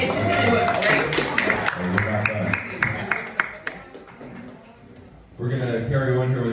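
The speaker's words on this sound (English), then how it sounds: "And another round of applause here." Audience applause with scattered clapping, dense at first and thinning out, then a voice speaking over the last stretch.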